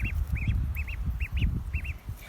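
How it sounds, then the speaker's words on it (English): Ducks quacking outdoors on their first time outside, a series of short nasal quacks, some in quick pairs, fairly close, over a rumbling low background. "Happy ducks."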